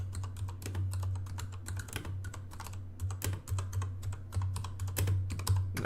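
Fast, steady clatter of keys on a computer keyboard, close and continuous for several seconds with an irregular tapping rhythm over a low steady hum, no voices.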